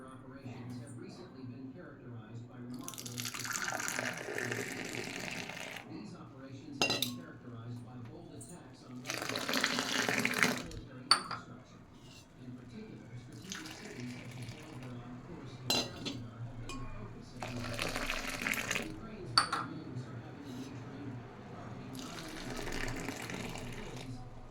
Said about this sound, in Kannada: ನಾನಿಲ್ಲಿ 2 ಕಪ್ಪಿಗೆ ಹಾಕ್ತಾಯಿದ್ದೀನಿ.